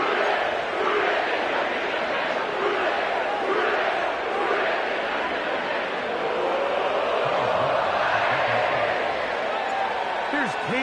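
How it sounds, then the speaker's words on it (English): A sellout stadium crowd roars continuously at Paycor Stadium in Cincinnati in an online ranked American football video game, a loud, dense wash of cheering with a commentator's voice heard through it. "sellout crowd has arrived at Paycor Stadium in Cincinnati"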